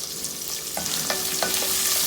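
Sliced onions sizzle in a hot pan while being stirred for sambar, with soft scraping and crackling close up, no voices.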